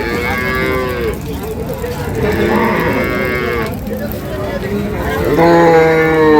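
Dairy cows of improved breed moo loudly and close by at the Ambari cattle market in Dinajpur, with several long, drawn-out lowing calls over a constant murmur of crowd noise.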